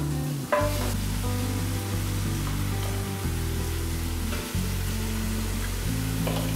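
Steady, loud sizzling of chicken feet frying in a large pan, continuous crackle with a low hum underneath, no voices.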